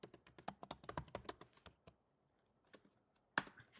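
Quick, close bursts of typing on a computer keyboard while entering a custom class name in a website builder, a steady run of clicks, then a pause and one final keystroke.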